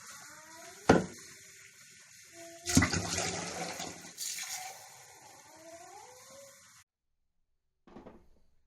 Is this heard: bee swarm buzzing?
no